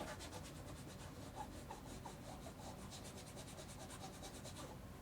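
A mat scrubber rubs back and forth over a rotating quilting cutting mat, lifting off stray threads in a soft, steady rasping scratch of faint, quick strokes.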